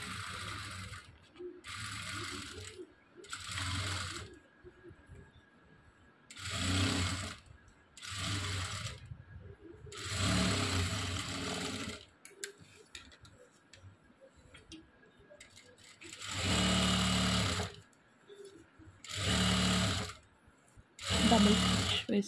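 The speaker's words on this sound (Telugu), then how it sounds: "డబుల్ స్టిచ్ వేస్తున్నా." A sewing machine runs a double stitch on a blouse in repeated bursts of rapid, rattling mechanical clatter, close and steady, separated by pauses with quiet handling in between.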